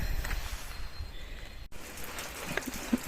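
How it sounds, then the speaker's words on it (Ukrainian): Rain falls steadily outside at a house in the countryside, a continuous hiss with scattered drops pattering close by and no talk. "Такий сьогодні у нас дощик пішов."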